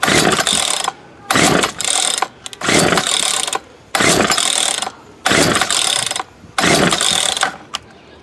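A Poulan Wood Shark chainsaw with a newly replaced primer bulb is pulled over and sputters briefly in six loud bursts separated by short pauses, sounding as if it is starved of fuel.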